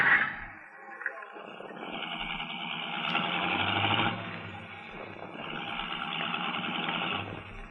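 A car motor runs as a radio drama sound effect, a steady mid-pitched engine drone that swells and eases under faint talk.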